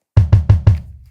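Four punchy kick drum hits in quick, even succession, deep and booming, each with a short thudding tail; no voices.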